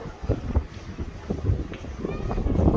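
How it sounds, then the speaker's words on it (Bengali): Strong gusty wind before a storm in a gajari forest in Bangladesh buffets the microphone in rough, low rumbling bursts that swell and build toward the end, with faint water motion beneath. "বাতাসটা অনেক জোরে আইতেছে"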